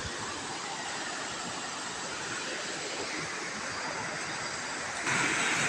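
The Wilis River flows by a bridge at a nature tourism spot, making a constant, even rushing wash that stays at the same level throughout with no voices.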